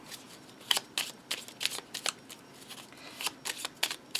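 A deck of poker-sized tarot cards being shuffled close up, giving quick riffling bursts in an uneven rhythm, faint and with no talking.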